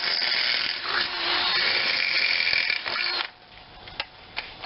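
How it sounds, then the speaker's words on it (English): Power drill boring holes through the sheet-metal body of a Rambler American Rogue car where it welds to. A loud, steady whine runs for about three seconds, then cuts off, leaving a few faint clicks and knocks. "Drill some holes in the top"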